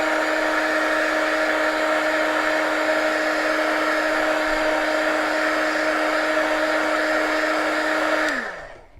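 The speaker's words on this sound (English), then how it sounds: "So I'm going to get my heat tool here and I'll just dry this coat of paint real quick." A heat tool blows hot air to dry a coat of paint on a faux shiplap sign. It gives a loud, steady whirring hum with an airy hiss, running alone for about eight seconds before it winds down at the end.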